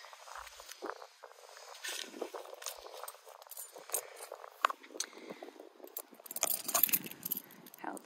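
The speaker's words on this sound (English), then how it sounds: "grab the keys." A bunch of RV keys jangles and clinks in a hand for about eight seconds, close and fairly steady, with brighter bursts of metallic chinks toward the end; no speech.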